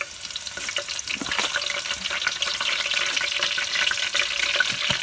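Onion is tipped into a hot pan and fries with a dense, close hiss and crackle that builds slightly and holds steady, with faint clatter and no speech.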